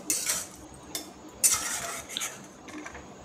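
A metal spoon stirring and scraping cashews and raisins roasting in ghee in a pan while making beetroot halwa, a few sharp clinks and scrapes spaced irregularly with quiet gaps between.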